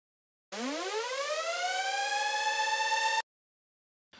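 Riser effect in a hip hop beat, a steady tone sweeping upward in pitch before leveling off and cutting abruptly after a few seconds, loud and clean.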